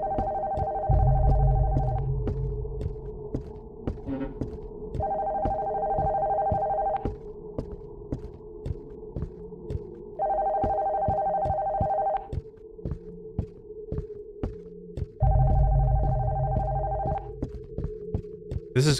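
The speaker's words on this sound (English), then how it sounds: "Phone from upstairs is ringing." A telephone rings upstairs in the horror video game Vanished, sounding in repeated two-second bursts of ringing with pauses between them over a steady low throbbing game ambience.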